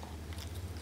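A baby chews a mouthful of pan-fried egg tofu and radish rice, soft close-up mastication sounds with faint crunchy bites running steadily through the brief moment.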